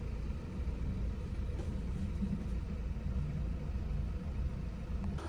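Car driving on the way to a construction site in Japan, heard from inside as a low steady rumble of engine and road noise, constant and unbroken with no talk.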